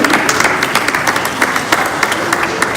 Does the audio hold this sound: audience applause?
yes